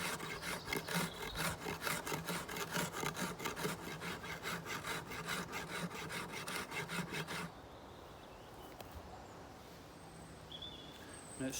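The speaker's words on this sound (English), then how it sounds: "Another use for the saw is for debarking." Kukri knife saw teeth rasping back and forth to strip bark from a wooden branch, a quick rhythmic series of close scraping strokes that stops abruptly, leaving quiet outdoor ambience with faint birds.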